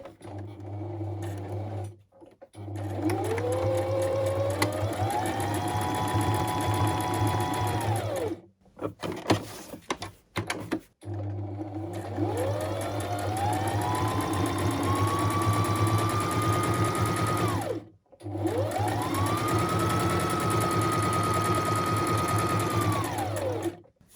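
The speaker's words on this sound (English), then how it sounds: "To go back to the sewing machine, we're going to do that. I'm going to use just straight stitch again." A sewing machine runs in long bursts of straight stitch, whirring up to speed, stitching steadily, then stopping, with short pauses between runs.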